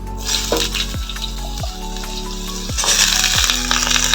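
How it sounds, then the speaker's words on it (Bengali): Oil sizzling as vegetable stems and potato fry with mustard paste and five-spice in a pan for a Bengali data jhol, a steady close hiss broken by a few brief scraping stirs. "এবার একটু সবজিগুলো ভেজে নেব"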